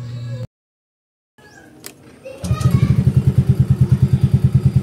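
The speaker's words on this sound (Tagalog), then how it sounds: "Paandarin na lang natin." A Yamaha Fazzio scooter with a freshly replaced spark plug: a brief silence and a few mechanical clicks, then the engine fires and putters in a fast, even, pulsing idle close by, with no talking.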